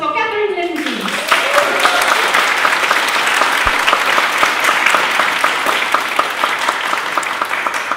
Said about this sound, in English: Have a big round of applause for Catherine Lim, please.